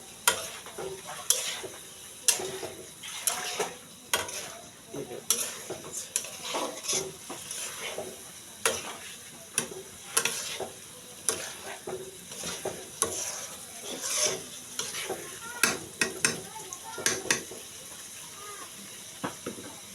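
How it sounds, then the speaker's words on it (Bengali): Egg and eggplant curry with boiled potato is stir-fried in a pan at night, a spatula scraping and clattering in irregular strokes over a soft sizzle. "আলু সিদ্ধ করে দিয়েছে, এই তরকারিগুলো এখন মনে করেন যে কষা নিতেছে"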